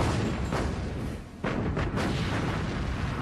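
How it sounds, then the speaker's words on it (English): The German battleship Bismarck and the cruiser Prinz Eugen rapid-fire their main and secondary guns, a dense, continuous roar of heavy booms with a brief dip midway, loud and unrelenting throughout. "Bismarck and Prince Eugen rapid fire their main and secondary armament."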